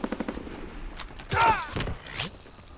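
Rapid bursts of gunfire from the Call of Duty WW2 video game crack out in the opening second, followed by a shouted in-game voice over lingering battle noise.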